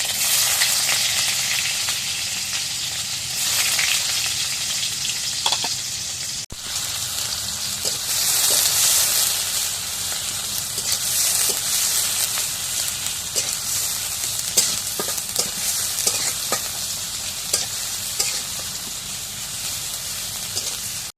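Chopped onions frying in hot oil, a loud continuous crackling sizzle close by with a brief break early on and scattered pops and stirring clinks, no talking.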